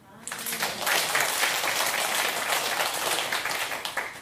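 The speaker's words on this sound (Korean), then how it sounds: "성가대 박수 한번 쳐주세요" A church congregation applauds the choir at a Sunday service, with clapping that rises after a quiet start and then holds steady and full for several seconds.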